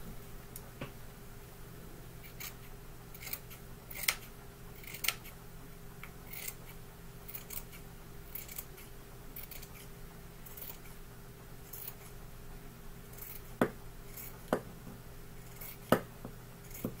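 Scissors cut through fabric for a rag quilt in short, crisp snips, some single and some in quick bursts, scattered over a quiet room with a low steady hum underneath.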